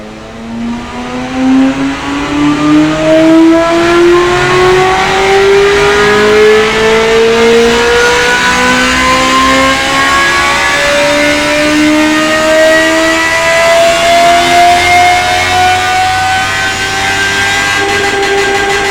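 A flat-plane bike engine in the Automation car-building game revs steadily upward, its rising harmonic whine climbing across the whole run, loud and continuous with no talking.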